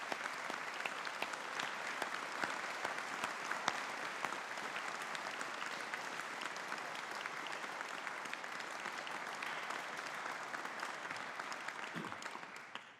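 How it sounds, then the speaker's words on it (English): A large audience at a university graduation ceremony applauds the graduates, a sustained, even wash of many hands clapping from a distance, fading out at the end. "congratulating our graduates of 2022 on their collective achievements and success with a round of applause from all"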